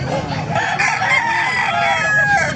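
A White Hatch gamefowl rooster crows loudly and close by in one long drawn-out call, with other fowl and crowd noise faintly behind it.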